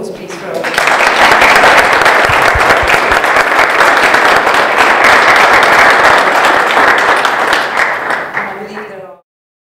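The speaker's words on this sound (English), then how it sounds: "A round of applause, please" Audience applause at a university book discussion, a sustained, dense wash of clapping from a large crowd, loud and steady for about eight seconds before fading out abruptly.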